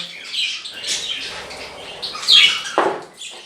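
Jumbo budgerigars diving into their food, with busy overlapping chirps, squawks and some wing flutter, close and moderately loud, with no talking.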